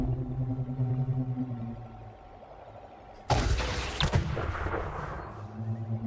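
A displacement missile launches in Elite Dangerous: a steady low ship hum with tonal drones, then a sudden loud burst of firing that rumbles and fades back into the hum.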